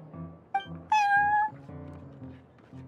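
A cat in the video game Genshin Impact, at the Cat's Tail card-game tavern, gives two meows: a short call and then a longer, louder drawn-out one, both near and clear over a soft low background.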